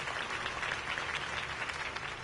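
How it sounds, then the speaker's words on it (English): Crowd applause at a campaign speech in Batman: The Telltale Series, a brief, steady burst of many hands clapping, fairly quiet and distant, with no talk over it. "If only Mr. Wayne, my campaign's largest backer, could have heard that applause"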